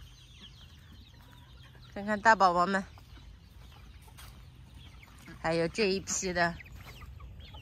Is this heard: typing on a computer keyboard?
no